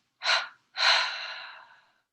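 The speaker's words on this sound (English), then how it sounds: "Double exhale and releasing. One more. Tensing and exhaling." Deep breathing during a guided meditation: a short sharp intake followed by a longer, airy exhale that fades out, close and clear with no talking.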